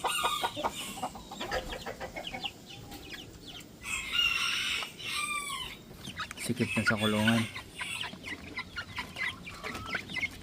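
Rhode Island Red chickens clucking around a backyard coop, with a rooster crowing loudly near the middle, other birds calling throughout and someone talking over them.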